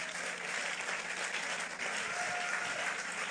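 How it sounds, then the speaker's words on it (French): A church congregation applauds and cheers during a Sunday service, producing sustained, even clapping from a large crowd throughout. "Acclame-le avec moi, s'il te plaît."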